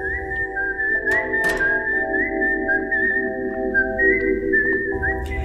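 A solo whistled melody composed for the 1968 English film Twisted Nerve, heard as a clear, sustained whistled tune over a soft low orchestral backing, with a few brief percussive accents.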